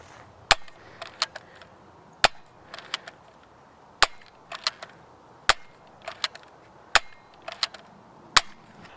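A modified Nerf Zombie Strike Hammershot blaster fires darts outdoors, each shot a sharp, loud snap spaced a second or two apart, with softer clicks of priming and handling between them.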